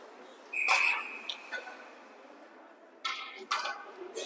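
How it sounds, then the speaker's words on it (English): Referee's whistle at a youth bantam ice hockey game, a sharp sustained tone from about 0.5 to 1.5 seconds, heard at moderate distance over arena ambience, followed by louder bursts of noise and clatter. "Late whistle by the ref."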